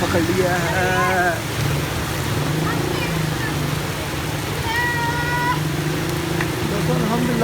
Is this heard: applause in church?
no